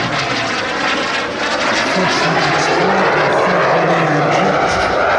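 A BD-5J microjet flies past at an air show, its engine producing a loud, continuous roar that holds steady throughout with a slight droning tone rising in the middle.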